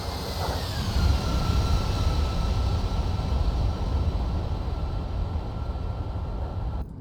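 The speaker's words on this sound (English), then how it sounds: "Flaps coming down." A-10C II jet in the DCS flight simulator with flaps lowering, a steady loud engine drone and whine running throughout with no other voices, cutting off abruptly just before the end.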